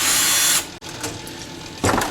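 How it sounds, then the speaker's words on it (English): Screws being removed from a desktop PC tower with a power driver, a steady mechanical whir that cuts off, then quieter ratcheting and handling noise and a short burst of the tool again at the end. "Set this on its side and start removing screws."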